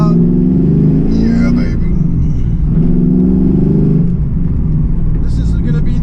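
A 2001 Pontiac Trans Am with 3.90 rear gears, its engine giving a loud, steady low rumble from inside the car with slight rises in pitch, while someone speaks briefly over it.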